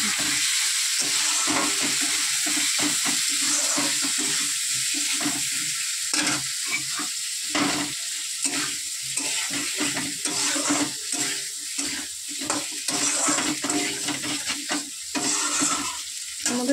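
Spice paste (masala) frying and being stirred in a pan for a thin fish curry, with a steady close sizzle broken by repeated scraping strokes of a spoon throughout, no talking.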